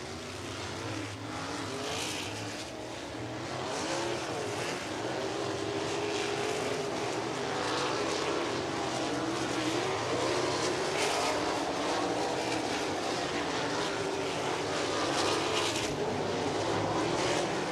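USAC sprint race cars running hot laps on the Lincoln Park dirt track, a continuous distant engine roar that swells slightly and holds steady throughout.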